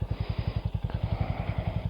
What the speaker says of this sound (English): That is a nice sounding exhaust as well.